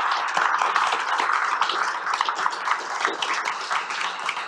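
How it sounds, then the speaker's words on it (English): Sustained applause from a conference audience for a panel of speakers, dense continuous clapping at steady loudness with no voices over it. "please give a warm round of applause to Ariel, Seamus, Maura and Carmel"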